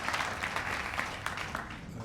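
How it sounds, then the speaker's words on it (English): Gala audience giving another round of applause to the event organizers, a fairly faint but continuous patter of many hands clapping in a banquet room, brief and steady. "another round of applause for Ken and Rachel and Merle for this great event"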